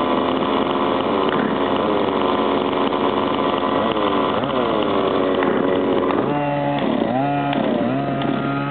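A car engine revved hard at full throttle, a loud, continuous roar that rises and falls in pitch with several sharp surges toward the end, heard up close with no talk.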